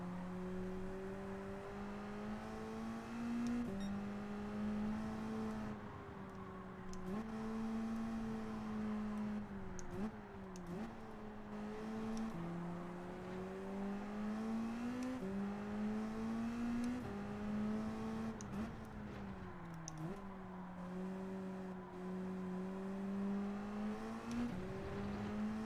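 A race car engine at full throttle in Gran Turismo 7, a steady high-pitched drone that climbs through the gears with brief dips at each shift, sustained and close throughout with no talk.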